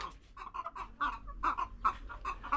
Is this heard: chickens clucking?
yes